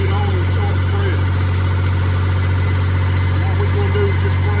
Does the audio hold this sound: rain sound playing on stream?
no